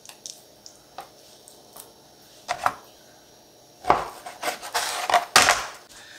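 A knife slices raw chicken breast into strips on a cutting board, soft scattered taps at first, then a quicker run of firmer chops and squishy cuts, close and fairly quiet, with no voices.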